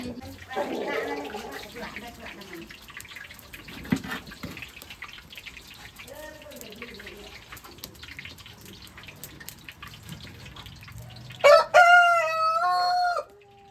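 Low talk and clatter, then a rooster crows loudly near the end in one long, close call.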